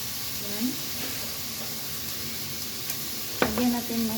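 Bitter melon and glass noodles sizzle in a hot pan while being stirred, a soft steady frying hiss with scraping strokes and a sharper clatter near the end.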